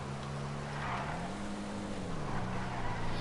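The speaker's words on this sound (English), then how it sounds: "I was expecting the car to sound a bit louder, considering it's a race car like a NASCAR" A NASCAR race car in Grand Theft Auto 5 drones with a steady, fairly subdued engine note that rises and falls slightly in pitch, with broad road or wind noise underneath and no talk.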